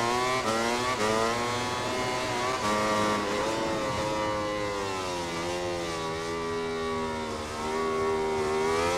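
A MotoGP 20 racing motorcycle engine screams at high revs throughout, its pitch rising and falling steadily through gear changes and corners, loud and close with no talking.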